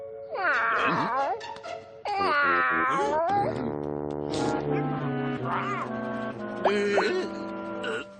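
A cartoon cat voiced in a French animated series meows in drawn-out, pitch-bending cries, several calls in a row, loud and close, with a brief gap between the first two.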